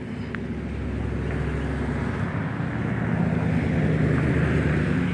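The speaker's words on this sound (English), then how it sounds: "I got a loud car coming" A loud car or truck passes by outside, a broad low rumbling roar that holds steady and then swells slightly toward the end, with no talking over it.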